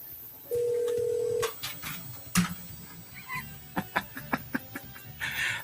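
A telephone call placed on air during a radio show: a steady electronic tone holds for about a second, then a run of short, evenly spaced beeps and clicks follows over faint background noise.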